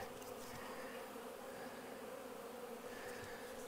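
Swarm of honey bees on an overcast day, a dense continuous hum of many wings, steady and moderately close with no talk.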